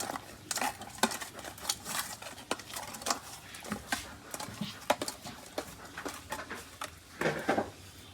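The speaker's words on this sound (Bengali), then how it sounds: "এখন মাছটা সুন্দর করে মাখিয়ে নেব।" Fish being mixed by hand with salt and turmeric in a bowl, producing irregular wet squelches and light clacks against the dish, close up and uneven in rhythm.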